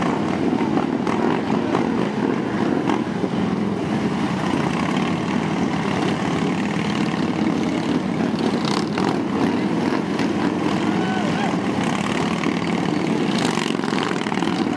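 Four motorcycles circle together inside a tight 22-foot ring, their engines blending into a continuous loud drone with rough, fluctuating texture and no clear breaks throughout.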